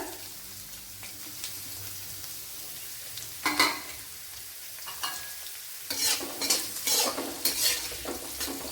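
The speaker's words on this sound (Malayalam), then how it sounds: "ഇനി ഇതിലേക്ക് ഒരു മീഡിയം സൈസ് 2 സവാള കട്ട് ചെയ്തത് ഇട്ട് കൊടുക്കുക." Chopped onions fry and sizzle softly in a pan for egg masala, with a steady faint crackle broken by louder bursts of scraping and clinking as a utensil stirs against the pan, and no talking.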